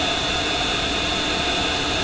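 A 1976 Boeing 727 jet engine number 3 spooling up during start, heard from the cockpit as a dense, steady roar with a high whine layered over it, loud and unbroken.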